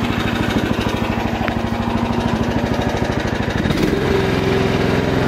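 Mygale 500 mini excavator engine runs steadily and loud at close range while working to pull out a stump, its pulsing throb shifting in pitch partway through as the hydraulics load up.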